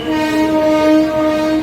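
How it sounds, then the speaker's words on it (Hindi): A long steady blast of a train horn from a pilgrims' train arriving at a station on the line to Deoghar, loud and close, with layered sustained tones and no voices. "ये भाई ये एक और ट्रेन आ रही है, इस बार पश्चिम की तरफ से ये ट्रेन आ रही है।"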